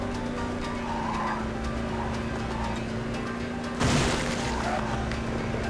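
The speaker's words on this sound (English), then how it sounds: "Yay, drift." A car drifts in the SpongeBob SquarePants movie video game: a steady engine whine runs underneath, then a sudden louder burst of tire squeal and skid noise follows near the end, with no voices.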